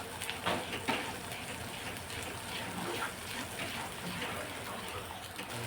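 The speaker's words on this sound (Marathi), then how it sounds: "मसाला आपल्याला परतून घ्यायचा आहे. 3-4 मिनिटं तरी" Masala sizzles in hot oil as it is sautéed for a spicy jackfruit curry: a steady, close crackling hiss with no voices.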